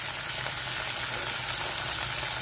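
Chopped onions fry in a pan with a loud, steady, close sizzle of hot oil, a constant hiss without pauses or voices.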